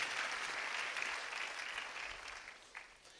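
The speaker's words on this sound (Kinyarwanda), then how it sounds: "Reka dukomere Imana amashyi ku bikorwa yakoze gikomeye." Applause from a church congregation during a Kinyarwanda sermon, a steady wash of many hands clapping that stays loud throughout and tapers slightly near the end.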